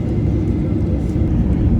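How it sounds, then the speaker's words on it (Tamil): Engines of a Pobeda Airlines Boeing 737-800 powering up while the jet holds still on the runway at Moscow Sheremetyevo, a loud, steady, close roar that fills the whole stretch without letup. "ஃப்ளைட் ரன்வேல நிறுத்திட்டு நல்லா இன்ஜினுக்கு பவர் கொடுத்துட்டு அப்படியே நிற்கிறாங்க, த்ரஸ்ட் கொடுக்காம"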